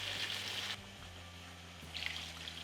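Water is poured into a pot of coconut-milk yellow curry with chicken drumsticks, a soft steady trickle and splash heard close up, fading briefly before a second pour, with no talking.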